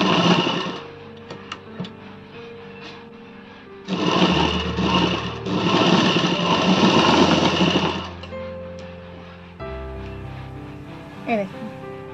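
A sewing machine stitches a bra-cut blouse in loud bursts lasting a few seconds, with someone talking between and over the runs.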